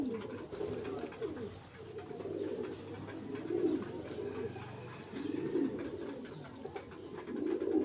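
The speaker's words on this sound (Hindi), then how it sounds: "सियालकोटी चूहा कबूतर जी।" Sialkoti pigeons cooing close by, soft throaty rolling coos repeating in slow overlapping swells against a quiet background.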